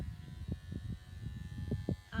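Electric clippers shave a dog's fur close by, giving a steady buzz with short rhythmic swells as the blade passes through the coat.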